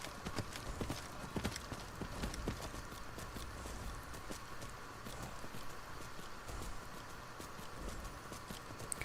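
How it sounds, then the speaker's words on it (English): Hooves of a skeletal horse in the video game Skyrim clip-clop in a steady, continuous rhythm throughout, close and moderately loud over a constant ambient background. "I'm just riding a scary skeleton horse."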